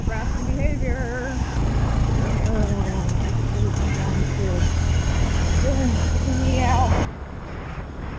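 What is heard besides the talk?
2023 Honda Grom 125cc motorcycle riding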